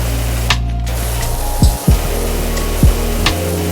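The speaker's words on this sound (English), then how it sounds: "The sound it makes when water hits stuff, especially the changing sounds" Pressure washer water spray from the game PowerWash Simulator: a steady broad hiss of jetting water, with a few brief low thumps and shifts in texture as the stream strikes surfaces.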